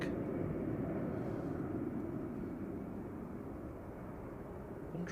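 A steady, loud jet engine roar from an Airbus A320 departing Manchester Airport on a flight to Corfu holds nearly level for the whole stretch, a broad low rumble with no pause.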